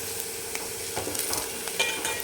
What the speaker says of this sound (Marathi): तर छान कांदा परतून घ्यायचा आहे.